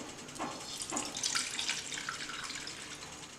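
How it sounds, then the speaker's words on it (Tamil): Half a litre of water poured into a container of soapnuts set to soak, a steady close splashing stream that rises and falls over a few seconds with no talking. "இதில் 1/2 லிட்டர் தண்ணி இதில் ஆட் பண்ணிக்கோங்க."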